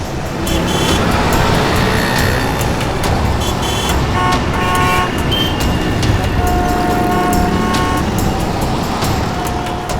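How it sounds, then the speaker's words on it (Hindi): Car engine and traffic noise on a road, loud and steady throughout, with a few faint horn-like tones in the mix; no talking. "अरे यार ये गाड़ी भगा रहा है।"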